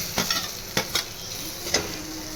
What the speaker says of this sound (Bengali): এবারে ওই তেলেই একটুখানি লঙ্কা গুঁড়ো দেবো, দিয়ে বেটে যাওয়া এই মশলাটা দিয়ে দেবো,